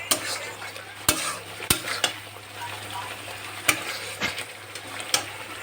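Spice paste sizzles in hot oil for a vegetable gravy while a utensil scrapes and stirs, with sharp clicks of metal against the pan at irregular intervals.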